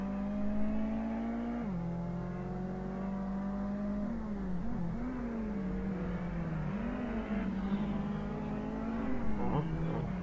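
Car engine in the racing game Need for Speed, a steady mid-pitched drone that climbs and dips with gear shifts and throttle changes, loud and continuous throughout with no talking.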